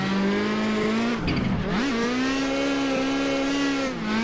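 A Toyota Corolla drift car at Irwindale track holds a loud, steady engine drone close to the mic, dips briefly as it shifts or slides with a tire-scrub rasp, then climbs back to a sustained high rev.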